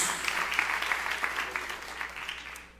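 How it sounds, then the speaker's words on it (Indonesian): A church congregation breaks into sustained cheering and applause for Jesus, a dense crowd roar of clapping that carries steadily and fades slightly toward the end. "Sorak-sorai yang paling meriah buat Yesus."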